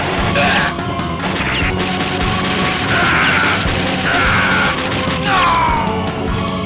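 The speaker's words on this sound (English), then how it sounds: "I couldn't really hear them over the sheer amount of screams, explosions, and gunfire." The Metal Slug arcade game on PC blares a dense, loud barrage of screams, explosions and gunfire, crashes and yells overlapping continuously in chaotic action with no talk.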